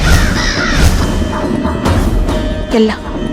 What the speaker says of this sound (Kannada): ಕಾಗೆಗಳ ಕೂಗಾಟ